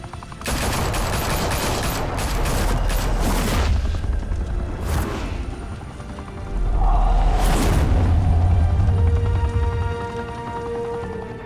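Gunfire breaks out in the Batman Telltale game as repeated rapid bursts of shots with booming hits. Two loud barrages come close together, with a brief lull between them and a music bed underneath.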